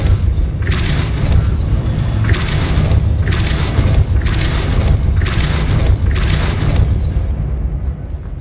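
Confringo explosion spell in Hogwarts Legacy, a deep, loud rumbling barrage of repeated booming blasts over a sustained low roar, about six bursts in steady succession.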